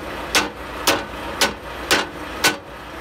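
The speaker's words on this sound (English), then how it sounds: "Just takes a little tapping with the hammer" Five sharp metallic hammer taps strike a trailer latch to bend it, evenly spaced about half a second apart, close and crisp against quiet background with no talking.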